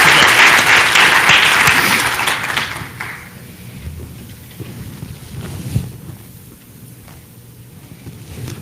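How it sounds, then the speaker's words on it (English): An awards ceremony audience applauds loudly for about three seconds, then the clapping thins and fades into quiet room ambience with scattered stray claps and faint voices. "So, round of applause for you guys."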